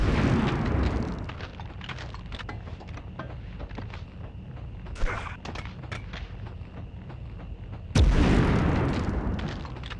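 Booming grenade blasts in the PlayStation game Medal of Honor, with a heavy explosion at the start and another sudden loud one later, separated by a rumbling stretch of lighter distant pops and crackles.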